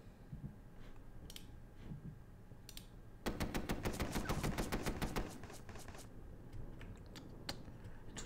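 Gunfire in a World War II video game crackles as rapid bursts of sharp, dry reports, densest in a sustained volley midway through, then thinning to scattered shots, fairly faint against background noise.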